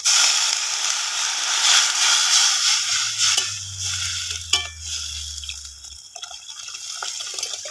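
Water poured into a pan of frying rice and spices for a Bengali eggplant dish, a loud hiss and bubbling sizzle with occasional clinks of a stirring utensil, no voices.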